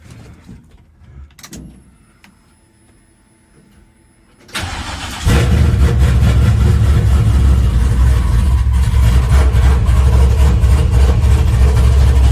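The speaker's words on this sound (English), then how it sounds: "So let's crank it up, see if it'll even crank." A car engine freshly reassembled after a cam swap and still untuned sits quiet, then cranks briefly, catches and roars into a loud, steady, rough idle close by.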